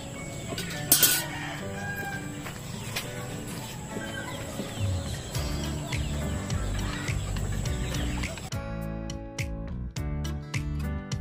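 Chickens cluck and crow close by, busy and continuous, with a brief rustle or scrape partway through and sharper clicks near the end.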